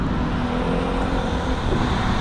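A standard automatic 2011 Proton Persona 1.6 facelift pulls away, giving a steady, close engine and road rumble with no gaps throughout.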